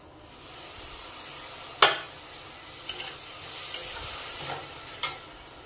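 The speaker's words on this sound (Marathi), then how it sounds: "कांदा टॉमॅटो चांगला शिजलेला आहे त्यामध्ये आता आपण जवळा टाकून घेऊयात" Dried shrimp (javla) tossed into cooked onion and tomato in a pan makes a soft continuous sizzle, broken by about five sharp scraping stirs spaced a second or so apart, close by with no talking.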